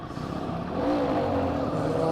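A Royal Enfield Himalayan 450 motorcycle engine revs with a bassy, throaty tone. It sounds close and steady, swelling slightly as the revs climb, with no voices.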